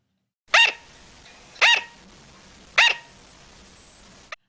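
A sugar glider gives three short, sharp barks spaced about a second apart, clear and close with quiet between them and a faint click at the end.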